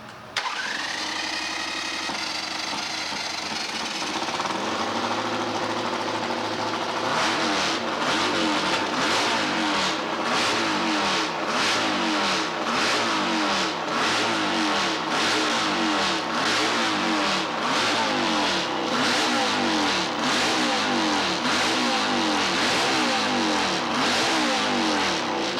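A running engine pumping oil through while the exhaust smokes, loud and continuous with a rapid pulsing rhythm that strengthens after several seconds, and no talk over it.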